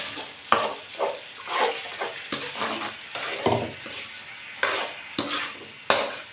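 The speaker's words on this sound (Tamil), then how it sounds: "அதனால் நான் புளி கரைச்சல் கூட கொஞ்சம் ஊற்றிக்கிறேன்." Tamarind water poured and stirred into a simmering fish curry (meen kulambu) in a pan, with sizzling, splashing and scraping in uneven close bursts.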